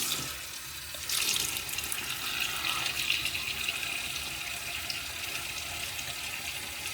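A bathroom tap runs into a sink while someone splashes water on their face before shaving. A quiet start gives way to a steady, close rush of flowing water that lasts to the end.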